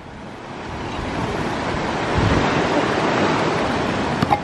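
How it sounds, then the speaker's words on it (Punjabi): Ocean surf washes onto a beach at a small island resort in the Maldives, a broad continuous roar that swells toward the middle, mixed with wind rumble on the microphone and a couple of brief knocks near the end. "ਹੁਣ ਪਾਣੀ ਆ ਜਾਣਾ, ਛੱਲ ਆ ਜਾਣੀ"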